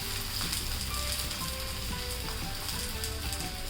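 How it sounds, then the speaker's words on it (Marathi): Thalipeeth flatbread, packed with grated vegetables such as beet and carrot, roasts in a pan with a steady, close sizzle that runs evenly throughout. "हे थालीपीठ पण मी चांगलं भाजून घेते"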